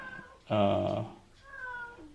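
A cat gives a loud, clear meow of about half a second, standing out between fainter voice-like sounds before and after it.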